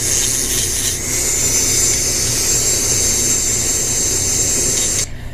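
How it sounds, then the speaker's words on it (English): Small sanding drum spinning on a power tool, a loud, steady high-pitched whine with hiss that runs continuously and cuts off sharply near the end, with no talking. "I'm using the small size sanding drum"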